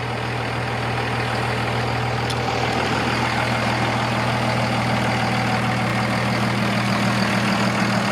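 A Dodge Ram 2500 turbo diesel idles steadily after a starter replacement, a loud, even, low rumble with a deep constant hum that holds without change throughout.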